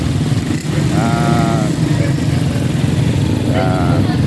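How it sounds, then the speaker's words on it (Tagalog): Several motorcycle engines idle and rumble close by in busy traffic at a landslide area, a continuous loud drone with occasional revving, while people talk over it. "Dami ng motor dito."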